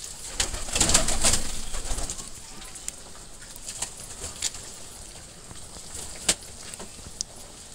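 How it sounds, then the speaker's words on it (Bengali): Pigeons of several varieties coo and flutter close by, with soft calls, brief wing flaps and sharp clicks and pecks scattered over a quiet background. The activity is busiest near the start and trails off into sparse sounds. "এখানে কিন্তু নানান রকমের কবুতর আছে,"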